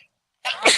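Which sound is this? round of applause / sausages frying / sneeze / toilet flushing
sneeze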